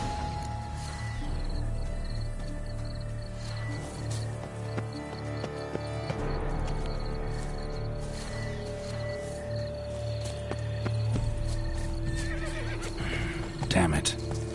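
A horse neighs and whinnies in The Witcher 3: Blood and Wine, with hoof clip-clops and crickets in the game's ambience, and a voice speaking over the scene.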